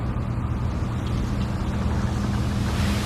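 A boat engine drones steadily on the water near Greenland, a continuous low rumbling hum with no voices.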